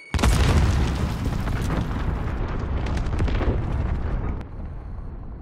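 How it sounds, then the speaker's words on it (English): A cruise missile blows up in Call of Duty: Modern Warfare, a loud booming blast that rolls on for several seconds before fading into a duller rumble. "Enemy cruise missile."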